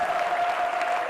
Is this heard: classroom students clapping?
yes